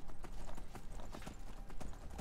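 Horse hooves clip-clop steadily and close in the video game Skyrim, a brisk regular rhythm of hoofbeats with no talking over it.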